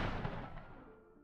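A single gunshot from a handgun fired at close range into a man's chest, a loud sharp blast at the start that rings out and decays over about a second, with no talking.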